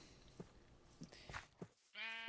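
A Minecraft sheep bleats at the end, a single buzzy, clear call following a few soft thuds and footstep-like game noises in the PS Vita version.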